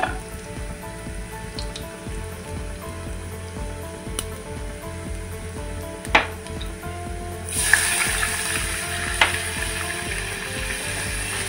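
Onions sauté in a pan for a Malvani chana balls curry, a soft, steady frying hiss with occasional clinks of a stirring spoon, the sizzle growing brighter toward the end, with no talking.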